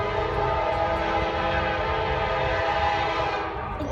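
A horn blasts from a passing train, a loud, sustained, steady tone over rumbling rail noise that cuts off just before the end.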